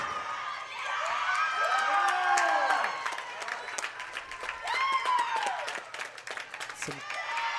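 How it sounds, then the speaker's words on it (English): Crowd noise from both teams' supporters at a gymnastics meet, a broad wash of shouts and cheering that swells and fades across the gym, with scattered claps and a commentator talking over it. "some crowd noise from both teams here"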